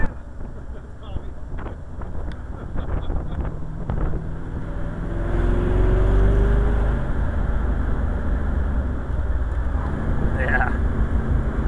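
A 1961 fuel-injected Corvette laps the Laguna Seca track, its low engine rumble building midway beneath heavy wind buffeting on the microphone while people talk over it.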